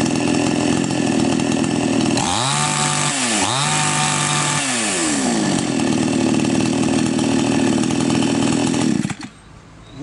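A Champion chainsaw engine runs after carburetor adjustment, holding a loud, close two-stroke drone, briefly revving up and down a few times midway, then cutting out near the end.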